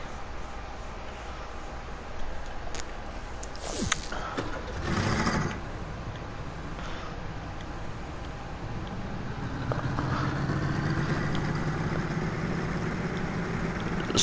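A steady engine drone from an old pickup truck in the building game Trailmakers, running continuously at moderate loudness with a few mechanical clunks and a rising rev near the end.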